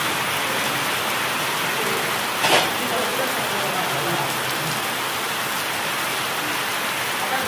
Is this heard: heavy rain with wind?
yes